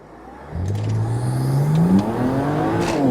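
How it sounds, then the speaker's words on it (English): A BMW E92 335i launching hard with wheel spin, the engine note rising steeply as the revs climb, loud and close with a rough whirring undertone. "Oh, big wheel spin there"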